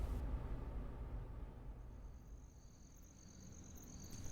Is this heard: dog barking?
no